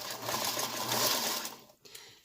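A sewing machine stitches fabric along a curve with small stitches, whirring steadily and close for about a second and a half before stopping, followed by a faint click.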